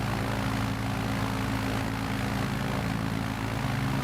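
A propeller airplane drones steadily in Microsoft Flight Simulator 2020, a constant engine hum with a low, even buzz and no talking over it.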